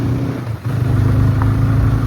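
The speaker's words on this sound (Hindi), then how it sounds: "अपनी बाइक खड़ी गई थी दूसरे घर पे, अपाचे लेके आए हैं, अभी जा रहे हैं घूमने" A borrowed Apache motorcycle engine rumbles loud and close, holding a steady throaty idle with a brief dip before rising again. No talk.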